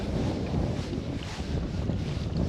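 Small boat out on the open sea off Saaremaa, a steady rushing drone of engine and water with heavy wind buffeting the microphone throughout.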